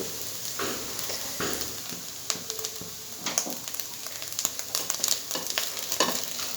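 An egg and flour mixture seasoned with chaat masala sizzles steadily in a hot pan while a utensil scrapes and stirs through it in irregular clinks and taps.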